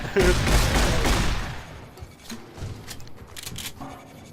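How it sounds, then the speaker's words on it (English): Riot shotgun blasts ring out in the video game Fallout New Vegas, a loud burst of rapid shots at the start that decays into scattered, quieter reports and thuds. "I swear if it wasn't for this riot shotgun by I'd be dead."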